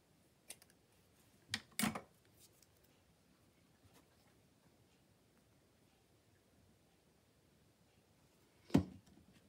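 Scissors snip through crafting material in a quiet room: two quick cuts close together near the start, then a single sharp snip much later, with no talking.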